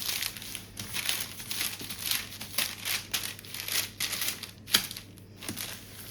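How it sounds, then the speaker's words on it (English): A rolling pin is pushed back and forth over parchment paper laid on homemade döner kebab meat, giving soft rhythmic crinkling and rustling strokes, fairly quiet and close. "So I've just put another bit of parchment over the top. I'm just gonna roll this now as flat as I can."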